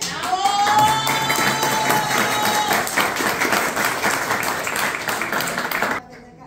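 Audience applause at a Guarani language and folklore day event, a sustained wash of crowd clapping with a few voices and a faint tone over it, running several seconds before cutting off abruptly.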